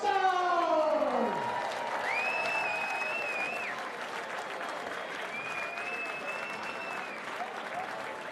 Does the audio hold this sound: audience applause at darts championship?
yes